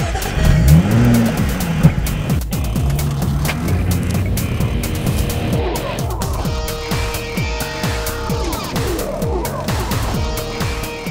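A Jaguar's V6 engine revs hard and accelerates up through an 8-speed gearbox, its roar rising and dropping with each shift, loud and close.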